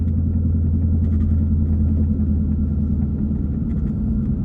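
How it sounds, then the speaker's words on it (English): Cold, big-sidewall tires with a flat spot on a 2020 GT500 drone in a deep, steady road rumble, loud and close, with a continuous low hum and no speech. "The car has been sitting a while, so it actually sounds like there's a flat spot on it as well"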